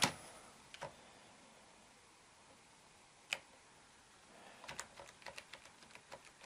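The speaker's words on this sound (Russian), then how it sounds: "мы можем пользоваться вот этой клавиатурой" Keys on a USB keyboard hooked up to a laptop click sparsely at first, then in a quicker run of taps near the end, faint against a steady background hiss.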